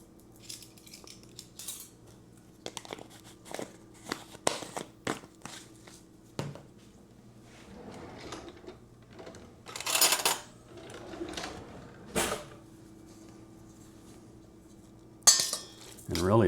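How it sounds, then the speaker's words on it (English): A utensil clinks and scrapes against a bowl in bursts while someone stirs a salmon burger mixture seasoned with Old Bay. Some taps are sharp and some scrapes are longer, with gaps of quiet between them. "you're just stirring it up, getting everything combined in there."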